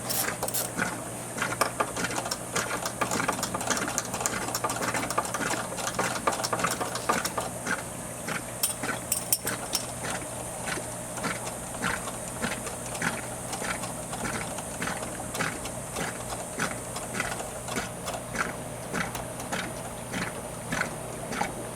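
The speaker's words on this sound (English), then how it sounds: "now with a 9/16 little wrench, we're going to take this off." A small 9/16 wrench loosening a nut on a Hayward pool filter, steady repetitive ratcheting clicks in a regular rhythm, close up over a background hum, no speech.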